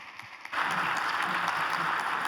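Audience applause at the close of a Congreso Futuro conference panel in Valparaíso: quiet room tone, then clapping breaks out abruptly and holds as a dense, steady wash of many hands.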